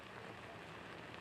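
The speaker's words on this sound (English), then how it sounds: "if the rain doesn't stop as it's forecasted not to" Heavy rain pours steadily during Hurricane Harvey in Houston, a dense, continuous hiss of drops hitting surfaces at an even loudness with no voices present.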